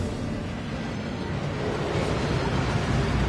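A waterfall in the Hogwarts Legacy video game gives a steady, dense rushing roar that fills the whole clip at an even level, close and loud with no talk.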